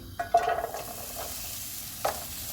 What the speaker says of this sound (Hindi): ऑयल गर्म हो गया, इसमें प्याज डालेंगे।